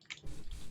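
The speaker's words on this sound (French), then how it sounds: "Y'a qui prend une douche, là?" Water drips and splashes like a running shower in a cave-exploring video game, a short watery patter that thickens into a low, steady gush.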